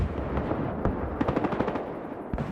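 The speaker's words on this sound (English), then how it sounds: "it was a sniper rifle, that's not good" Gunfire from a nighttime Battlefield Hardline match: a rapid string of sharp shots, moderately distant, cracks out against steady background noise, with a single louder report near the end.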